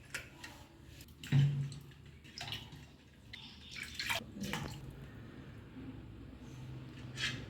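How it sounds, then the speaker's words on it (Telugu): Fish pieces being rinsed in a bowl of water, with intermittent splashes, drips and sloshing close by, fairly soft and irregular throughout. "ఇంకొకసారి కడుక్కుందాం బాగా నీట్గా"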